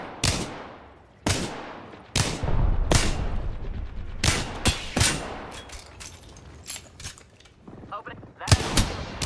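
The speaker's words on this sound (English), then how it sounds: "Opening fire." Repeated gunshots from a video game firefight, several loud sharp bursts spaced unevenly with brief gaps, close and punchy over a busy background of game effects.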